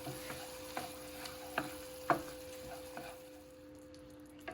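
Oats manchurian gravy with tomato sauce bubbling in a pan as a spoon stirs it, a soft steady sizzle broken by regular scraping strokes about every half second, close and alone.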